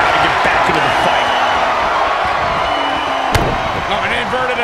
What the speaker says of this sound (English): Oh, an inverted atomic drop.